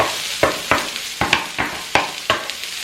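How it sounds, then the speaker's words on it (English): Vegetables for lo mein stir-fry in a hot pan at 200 degrees Fahrenheit, with a continuous sizzle punctuated by about seven sharp, evenly spaced scraping tosses close to the microphone. "So get these veggies nice and done."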